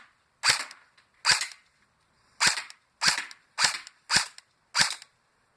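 An airsoft pistol firing at 380 to 390 fps in semi-automatic mode gives seven sharp, close snapping shots at an uneven pace of roughly one per half-second to second, each standing alone with no talk.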